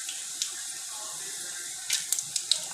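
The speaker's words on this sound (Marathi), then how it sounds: "भाजी धुवून घेऊ आता आपण" Fenugreek greens being washed under a running tap: a steady, soft hiss of flowing water, with a few sharper splashes and spatters toward the end as the leaves are handled.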